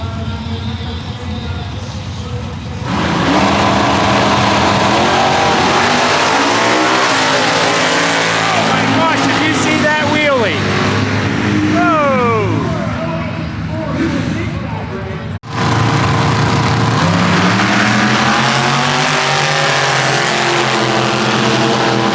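Constant roaring of jet-powered drag race cars at Keystone Raceway's Night of Fire, very loud and sustained, with rising and falling whines and crowd voices mixed underneath.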